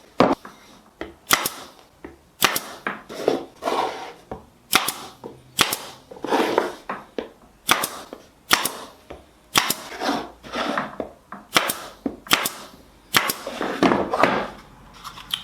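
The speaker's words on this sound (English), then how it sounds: "I'm just gonna pin it on with a small staple gun" A small staple gun pins together a wooden jewelry box, firing sharp, loud snapping shots one after another at an irregular pace, up close with no talking.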